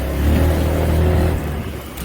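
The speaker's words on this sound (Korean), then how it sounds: "앞전 영상과 같이 풀 악셀 했다가 풀 브레이킹 한번 해보겠습니다" A Honda Forza 350 scooter revs hard under full throttle on a test ride, a loud, steady engine drone filling the whole stretch and easing slightly toward the end.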